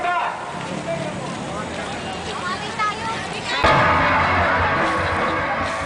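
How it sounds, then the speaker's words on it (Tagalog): Marching protesters in the Philippines arrive at Luneta, a crowd shouting and chanting continuously at moderate distance, with a louder, denser swell of voices in the final seconds. "tuloy-tuloy pa rin ang sigaw at panawagan ng masang Pilipino"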